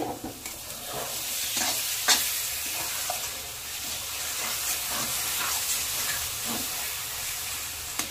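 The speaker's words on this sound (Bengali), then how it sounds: "একটু ঢেকে ঢেকে তেল ছাড়া পর্যন্ত কষে নেব।" Spice masala sizzles and fries in oil in a pan for chicken and potato curry. A spoon stirs and scrapes it in scattered strokes over a steady hiss.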